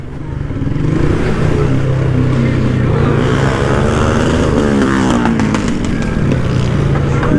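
Several motorcycle engines roar and rev nearby in a loud, continuous stream at a crowded street gathering in Capão Redondo, with droning whir and some clatter as bikes pass by.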